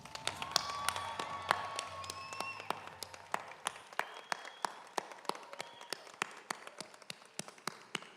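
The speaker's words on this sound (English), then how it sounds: "Big round of applause." Applause fading to scattered, sparse claps from an audience at a nursing school pinning ceremony, heavy at first and thinning to a few distinct individual hand claps echoing in a large room.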